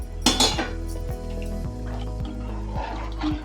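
Rice for a chicken dum biryani is stirred in a metal pot, a spoon scraping and clinking against the sides in repeated close strokes, with a louder clatter at the start.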